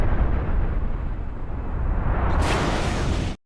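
A cruiser blows up in Halo 3, a continuous roaring blast that stays loud and dense for over three seconds, swells brighter and harsher near the end, then cuts off abruptly.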